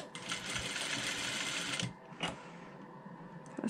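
A sewing machine or serger stitches a binding strip onto fish net in a steady close whir, then stops, followed by a few soft handling sounds.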